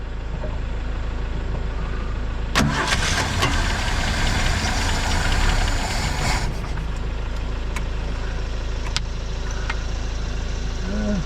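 A 1970.5 Ford Falcon, sitting in a junkyard for 28 years, cranks and catches, its engine running with a steady knocking idle and a louder burst of revving partway through, close up with no talk.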